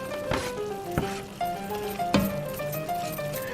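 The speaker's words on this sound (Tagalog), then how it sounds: "Now that the ground beef is browned, we're just gonna add some onions" Browned ground beef and onions fry in a pan with a steady close sizzle, broken by a few sharp scraping stirs of a utensil across the pan and no talk.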